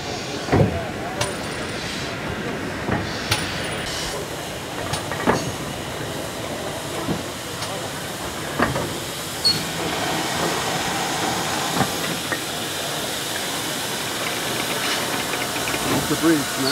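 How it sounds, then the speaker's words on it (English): A double-headed steam train rumbles past with heavy, rhythmic chuffs and clanking beats repeating over a continuous mechanical roar. "The first train will be double-headed."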